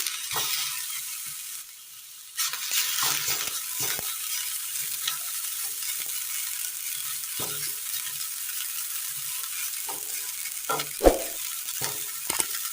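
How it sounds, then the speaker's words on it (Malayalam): Grated coconut roasting in a hot pan for a Kerala snack, a steady bright sizzle with scraping stirs and occasional sharper clicks of the utensil against the pan, close and alone without speech. "പാനൊന്ന് നന്നായി ചൂടായി വരുന്ന നേരം ഇതിലേക്ക് തിരുമ്മി വെച്ചിരിക്കുന്ന തേങ്ങ ഇട്ട് കൊടുക്കാം"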